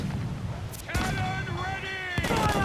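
Ship cannons fire in a naval battle in Assassin's Creed IV Black Flag, with several booming blasts spaced a second or so apart. Shouted crew voices are heard between them.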